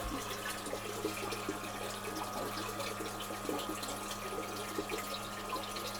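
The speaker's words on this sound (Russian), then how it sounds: "Вода наполняется в 100-литровый бак, где подогревается от жаркой печки до комнатной температуры." Well water pours into a 100-litre tank, a faint, steady rushing hiss with a low hum underneath, continuous and uneventful throughout.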